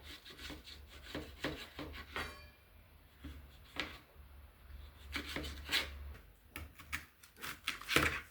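Green chillies and onion being chopped on a cutting board for an egg omelette, a run of close, irregular knife taps and scraping strokes repeating steadily with no talking.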